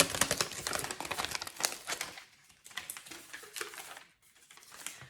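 Wrapping paper torn off a Chanel lipstick set, with quick bursts of crisp crinkling and ripping broken by short pauses, close and fairly quiet, heard alone.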